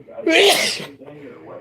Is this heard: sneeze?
yes